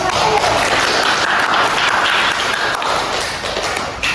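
A room of students claps for a presenter during a classroom group session, a thick continuous applause that stays loud throughout and eases slightly near the end.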